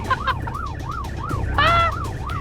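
A wailing ambulance siren sweeps up and down in a steady repeating cycle, loud and near, over a low engine rumble, as the ambulance is driven off-road in four-wheel drive.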